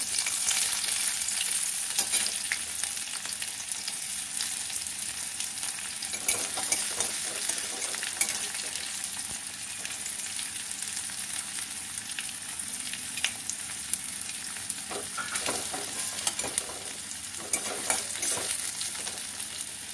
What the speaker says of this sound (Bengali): আমি একটা পেঁয়াজ কুচিগুলো ছেড়ে দেবো